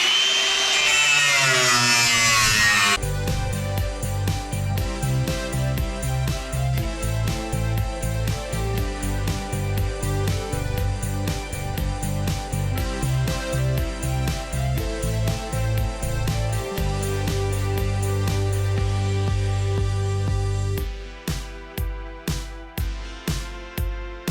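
A power tool cuts into the body of a Ford MK2 Escort in a workshop: a loud, sustained whine with rapid rhythmic pulsing that runs for about twenty seconds, then drops into a series of short bursts near the end.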